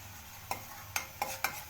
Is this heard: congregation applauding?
no